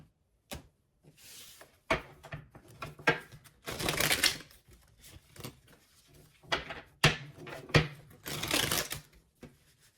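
A deck of tarot cards is shuffled in quiet, irregular bursts of papery riffling and soft taps, with short pauses between handfuls.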